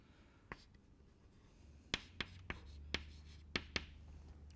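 Chalk taps and clicks on a board in a quiet lecture room, a handful of sharp, irregular strokes that grow more frequent toward the end.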